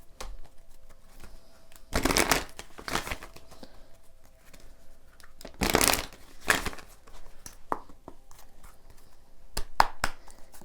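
Tarot cards being shuffled in bursts, with several riffling flurries spaced through the clip and short ticking card sounds between them, close and fairly quiet, with no talking.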